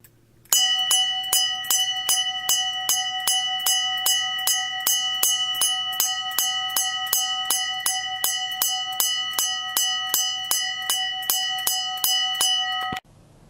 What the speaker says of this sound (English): Let us begin now with the sounding of the bell.